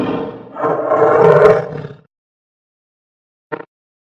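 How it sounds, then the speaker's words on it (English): A tiger roars loudly and close, one long rumbling roar lasting over a second, followed after a silence by a short, sharp growl. "Tiger."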